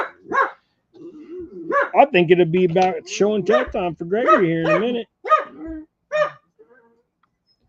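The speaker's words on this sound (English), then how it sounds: "Oh, I heard car doors, and now the dogs hear them." Several dogs bark and yip loudly indoors in a rapid, overlapping burst, reacting to car doors outside, while a person talks over the commotion.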